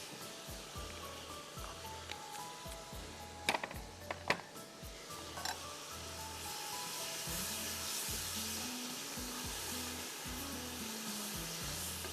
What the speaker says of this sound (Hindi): थोड़ा मैं इसको भून रही हूँ, 5 मिनट इसको भूनूंगी